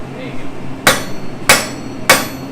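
A blacksmith's hammer strikes hot steel at the forge three times in a steady rhythm, each blow loud, sharp and close.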